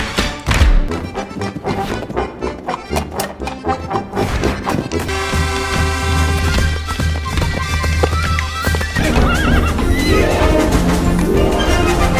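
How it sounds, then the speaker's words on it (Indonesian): Horses neighing and whinnying in the animated film Ferdinand, loud and repeated. Hoof clip-clops, thwacks and crashing hits mix in over a busy, dense soundtrack with music. "para kuda pun datang dan mengejek Ferdinand."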